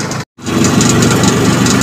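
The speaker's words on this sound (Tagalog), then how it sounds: "bali motor po ni Kuya Black yung sakay natin" A motorcycle engine runs close by with a steady, rough idling rumble, briefly cut off by a short gap of silence before resuming evenly, with no speech.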